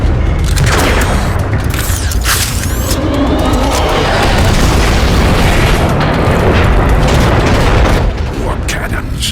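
Warp cannon blasts from Transformers: Fall of Cybertron pound continuously, a loud, dense barrage of booming explosions and crackling bursts filling the whole stretch without letup.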